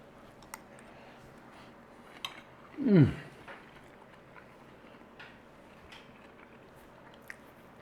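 Biting into a beef burger with rice, red onion and pickle, one close, brief crunchy bite and squish midway, with faint chewing clicks around it in a quiet room.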